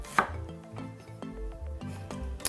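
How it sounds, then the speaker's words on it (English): A knife trims the core out of a pineapple on a board, giving several close, firm cutting knocks with low thuds in an uneven rhythm and no voices. "we're going to take our knife, we're going to grip it, and we're going to trim away that core"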